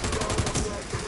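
Rapid automatic video game gunfire, a dense burst of repeated shots, loud and close, with someone talking over it.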